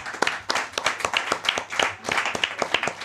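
A small group claps at a podcast event brunch show, with a few people giving brief, uneven, close-sounding claps.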